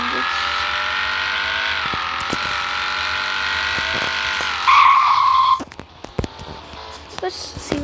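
A car engine runs steadily at a high, even pitch, then rises sharply in a brief loud rev near the end before dropping off, followed by scattered clicks and knocks.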